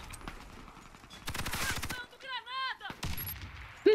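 Bursts of gunfire in the Warface video game during a bomb-plant round, short sharp volleys followed by chirping game effects and a brief voice at the end, fairly quiet overall.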